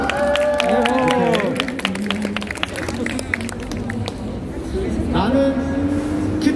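A street busking crowd in Hongdae claps and cheers in a dense, lively burst outdoors, with excited voices and shouts rising over the continuous applause.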